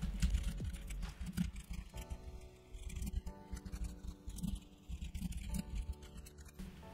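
Code being typed on a computer keyboard, a run of quick, light key clicks in uneven bursts with brief pauses, close but quiet over a faint room hum, and no voices.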